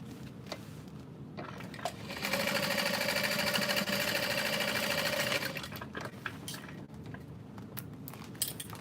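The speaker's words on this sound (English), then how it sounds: "I can just top stitch this down fully." A sewing machine top stitches a diaper bag without lining, a steady continuous motor whir running for about three seconds in the middle, with quieter handling clatter and shuffling before and after.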